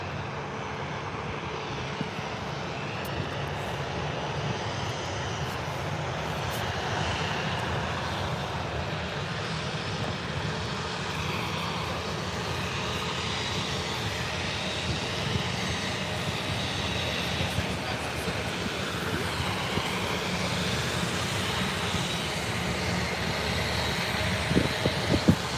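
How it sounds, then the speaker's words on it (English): A Ryanair Boeing 737 and a Jet2 airliner taxi out at Birmingham airport, giving a steady, far-off jet engine roar that fills the air and never rises to a sharp peak. "Ryanair 737, about to be followed out by its Jet 2 counterpart."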